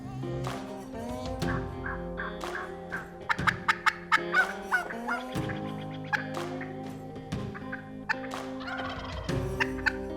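Several wild turkey hens call close by, overlapping clucks, yelps and purrs in a busy, continuous chorus with occasional sharper notes.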